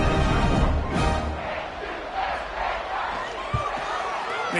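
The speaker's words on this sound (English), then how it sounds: "this crowd is feeling themselves after that last drive" A packed stadium crowd in the EA Sports College Football 26 video game roars and cheers continuously in a broad, loud wash, with a broadcast commentator's voice over the noise.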